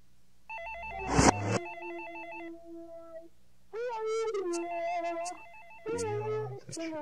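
An electronic telephone ring trills in warbling bursts, interrupted by a loud thump, then rings again in stretches with pauses between.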